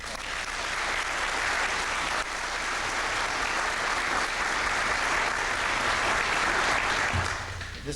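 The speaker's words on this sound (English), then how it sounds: "I'd like to give them a round of" Audience applause for fire department recruit trainers at a recruit graduation ceremony, a steady, dense wash of clapping that fills the room for the full length without a break.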